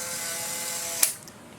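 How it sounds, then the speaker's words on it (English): A Polaroid SX-70 Model 1 instant camera fires its shutter with a single sharp mechanical snap, followed by a brief whirring ratchet of the film ejecting, close and clear against a quiet background. "We'll just hit the shutter button"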